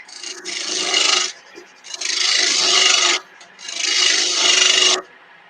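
A skew chisel scrapes across dry wood in three long rasping strokes of about a second each, separated by short pauses, loud and close with no talk.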